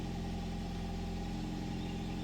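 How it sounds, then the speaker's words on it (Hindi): A Toyota Aqua hybrid's petrol engine runs at a steady idle, a low continuous hum with a smooth droning rhythm, close by and unaccompanied by speech. "आपका पेट्रोल इंजन भी स्टार्ट हो गया।"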